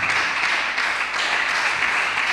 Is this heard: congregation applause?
yes